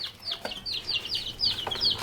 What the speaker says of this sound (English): Oh, chickens! How's everyone doing?